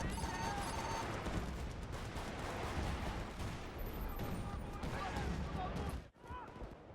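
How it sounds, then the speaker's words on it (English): Sustained gunfire and explosions rumble around a base under attack in Bad Company 2, a dense continuous battle din that drops out briefly near the end. "the base that I'm sitting on top of is under fire"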